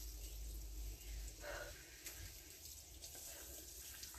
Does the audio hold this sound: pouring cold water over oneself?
yes